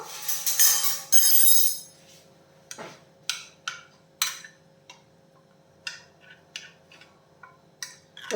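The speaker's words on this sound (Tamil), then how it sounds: "சேர்த்துட்டு நல்லா கிளறி விட்டுடலாம்" Wheat flour and semolina batter for crispy wheat dosai stirred in a bowl with a spoon, giving a few loud scrapes at first, then a steady series of light clinks and taps against the bowl, close and alone.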